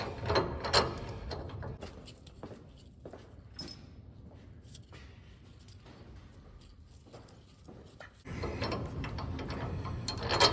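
A ratchet tightens a nut onto a Ridetech coilover shock mount on a 1969 Pontiac Firebird, giving close, sharp mechanical clicks and clatters, busier and louder at the start and again near the end, with quieter ticking between.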